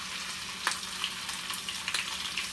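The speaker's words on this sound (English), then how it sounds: "you hear it frying up, now you can put your fish into the pot" Jamaican sprat fish frying in a hot pot of oil, a steady crackling sizzle with scattered sharp pops, close and fairly quiet, no voices.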